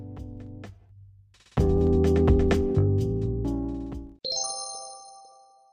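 A phone call tone rings out while guests are dialed in: a few soft chime notes, then a louder burst of bright overlapping ringing tones, a brief gap, and a final clear higher ring, with no voices.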